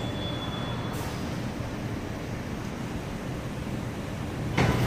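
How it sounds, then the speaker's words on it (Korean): Seoul Subway Line 9 train pulling into an underground platform, a steady broadband rumble and rush of air holding throughout, swelling slightly toward the end as the cars draw closer. "조금 기다린 끝에 9호선 열차가 들어왔습니다."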